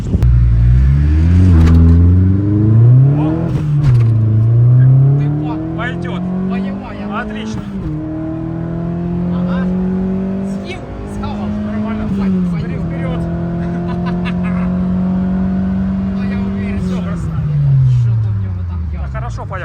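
A turbocharged BMW accelerates hard in a drag race, its engine climbing through the revs in several long pulls with gear changes between them, loud and close, while people talk over it.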